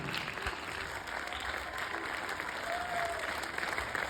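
Audience applause at a dance ensemble performance, a dense, even wash of clapping from a crowd that holds steady for the whole stretch, with faint voices mixed underneath.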